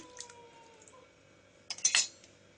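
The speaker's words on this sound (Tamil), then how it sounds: "நல்லா கிளறி விட்டுருங்க எல்லாம் நல்லா கிளறி மிக்ஸ் ஆனதுக்கப்புறமா" A spoon stirs rice and lentils in a pot, with a soft early clink and then a brief cluster of sharp metallic scrapes and taps near the end, close but fairly quiet.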